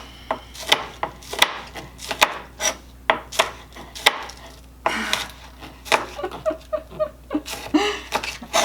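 Steady, fairly quick knife chops land on a wooden cutting board while preparing pineapple fried rice, close up and alone. The cuts come in uneven bursts, with brief faint rustling between strikes.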